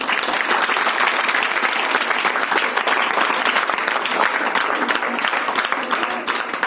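Sustained applause from a crowd at an Ambedkar Jayanti speech, dense steady clapping filling the whole stretch without pause, loud and close.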